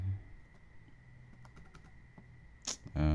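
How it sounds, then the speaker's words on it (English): A street name is entered on a computer keyboard with sparse, light key taps spread across a few seconds, quiet and near, ending in a louder clack and a burst of noise, with no voices. "You can just type in the street or the road."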